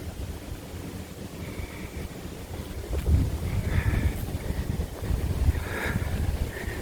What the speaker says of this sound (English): I don't know if you guys can hear between the boats